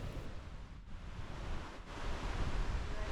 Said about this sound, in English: you can see the swell pushing the water through